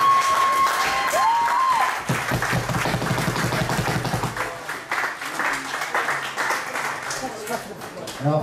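Applause and crowd noise fill a boxing match venue, with steady loud clapping mixed with cheering throughout and some voices audible in the crowd.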